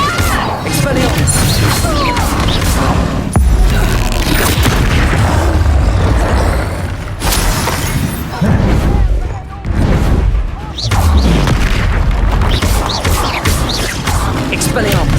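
Spell blasts from the Hogwarts Legacy video game land as repeated heavy booms and crashing impacts across the stretch, loud and close, with voices talking over the dense game noise.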